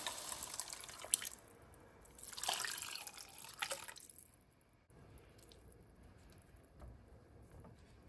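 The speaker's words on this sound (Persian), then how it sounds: "آب جوش بهش اضافه میکنیم" Boiling water pours into a pot of fried tomato paste in a couple of splashy bursts, then the sound settles into a quiet simmer.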